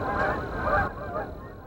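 Geese or similar migrating birds honk overhead near rural lakes, a dense, steady chorus of calls lasting under two seconds at moderate loudness with no voices.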